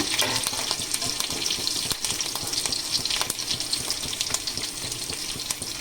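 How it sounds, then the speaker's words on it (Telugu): Curry leaves crackling in hot oil for a cauliflower fry, a dense continuous spattering sizzle with rapid pops, loud and close, no voices. "ఈ బాగా వేసుకుని చెట్టు చెట్ట అంటుంది కరివేపాకు కూడా"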